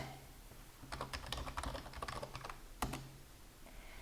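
Computer keyboard typing a terminal command on a Linux machine, a quick close run of light plastic key clicks lasting about two seconds, ending with one firmer keystroke, quiet and alone.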